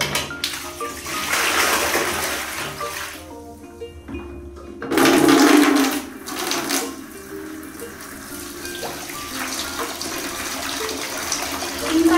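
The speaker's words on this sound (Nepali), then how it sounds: "यो बाल्टिनमा पानी थाप्दै गर्छु" Water gushes and splashes into a bucket in bursts, with steadier running flow between, close by and fairly loud, during hand-washing of clothes at home.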